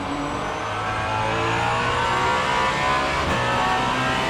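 Alpine race car number 36 at Le Mans, its engine roaring loud and steady at high speed, with a sustained mid-pitched drone and a rising tone across the whole stretch.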